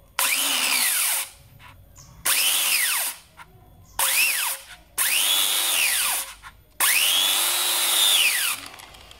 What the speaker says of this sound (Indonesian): Jadi metode penggerendaannya kita langsung tempelkan seperti ini ya.